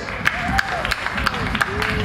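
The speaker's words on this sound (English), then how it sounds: "please give yourself a great round of applause for sticking it out and being the audience" An audience at a live music show at Rye Playland gives itself a round of applause: dense, steady clapping from a crowd, with a few whistles and cheers rising above it throughout.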